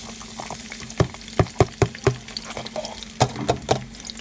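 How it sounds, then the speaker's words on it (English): Chopped onions frying in oil in a pot, a steady close sizzle broken by sharp scraping knocks of a spoon stirring them, several strikes in quick succession. "once we add our onions, we stir them in the oil"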